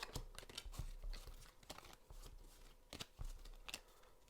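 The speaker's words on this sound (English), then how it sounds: "you're gonna go ahead and shuffle these cards, and I like to start with a pile shuffle." Cards being shuffled and slapped down in quick, uneven bursts of papery flicks and taps, close up with no talking.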